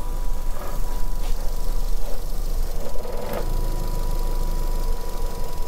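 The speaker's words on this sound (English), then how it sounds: "definitely, there's a misfire going on there" A Vauxhall Meriva B engine idling with a misfire, an uneven, stumbling rhythm and occasional irregular knocks, steady and close, with no talking.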